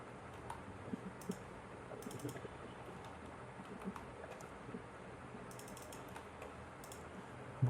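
Quiet computer keyboard typing as a heading is entered, with soft irregular clicks and short bursts of keystrokes over low room noise, and no talking.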